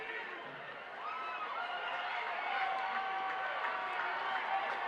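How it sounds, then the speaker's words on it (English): Spectators at a high school football game between Niles North and Niles West roar and stir in a steady, moderate crowd noise while a commentator talks over it. "Crowd getting into it."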